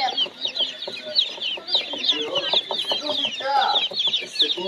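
Day-old ducklings and chicks at a poultry shop peep in a dense, continuous chorus of high chirps, close and loud, with faint background voices now and then.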